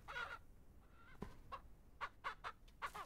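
Chickens cluck in a series of short, close, bright calls in the farming game Ranch Simulator, several quick bursts coming in an irregular rhythm over a quiet background with no talk.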